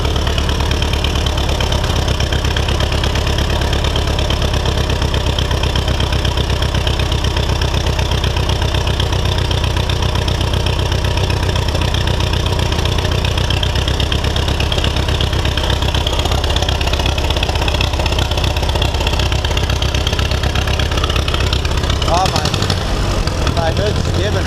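An Oliver 550 tractor engine idles roughly and unevenly, a loud low chugging drone with an irregular beat running continuously, while voices talk over it.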